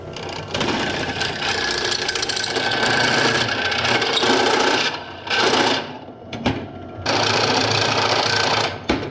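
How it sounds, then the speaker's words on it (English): A drill press with a step drill bit whines steadily while drilling out a metal truck axle shackle, with two brief pauses before the motor runs again. "I'm gonna be using my little drill press with a step drill bit to drill this out"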